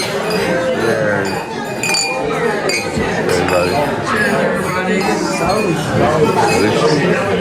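Glasses clink repeatedly in a toast among a chattering group, with bright, overlapping chinks heard under lively talk and crowd noise at a wine ceremony in Portugal.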